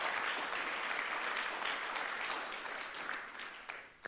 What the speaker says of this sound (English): just a round of applause for y'all for presenting today